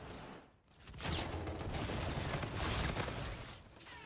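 Sustained rapid gunfire in a mech shooter video game, dense and loud bursts of automatic fire layered over one another after a brief lull.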